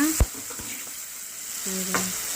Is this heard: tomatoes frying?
yes